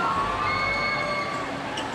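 People on a ride at a large indoor theme park scream and cheer together, a loud, steady crowd wash of voices with a few shrill tones rising over it throughout.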